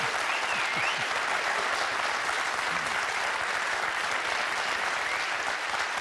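Studio audience of a German satirical TV show applauding loudly and continuously, a thick, even wash of clapping that fills all six seconds without letting up.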